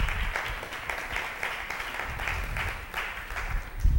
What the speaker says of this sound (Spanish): ¿Cuántos aplauden al Kadosh Baruj Hu?